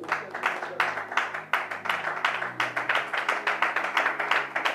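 A congregation claps together in church for about five seconds, a brisk run of sharp, close hand claps. Faint singing or voices sit underneath.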